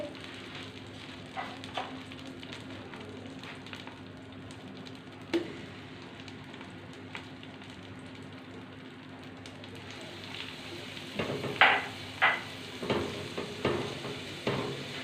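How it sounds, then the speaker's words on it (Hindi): Garlic fries in butter and olive oil with a low, steady sizzle and occasional light stirring clicks, growing busier with several scraping stirs toward the end; no voices. "थोड़ी देर के लिए लहसुन को भूनेंगे"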